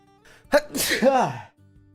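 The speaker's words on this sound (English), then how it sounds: "Oh my god, I'm gonna sneeze." A single sharp sneeze up close, with a quick intake of breath before it and a voiced exclamation right after.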